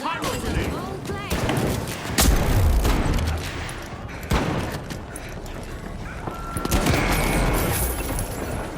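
Video-game gunfire crackles in a dense fusillade with sharp, loud shots and booms scattered through a busy stretch, while a voice talks over the action.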